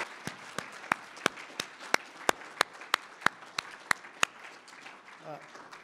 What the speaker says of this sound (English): I would hope you would all join me in giving them another round of applause for this wonderful class of 2022